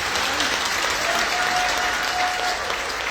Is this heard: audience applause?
yes